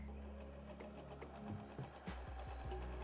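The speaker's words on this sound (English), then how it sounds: "And I can hear the machine's working slightly harder" A heavy duty sewing machine stitches through fabric folded over several times, a steady mechanical hum with rapid rhythmic needle clatter, then a few heavier thumping strokes as it works harder.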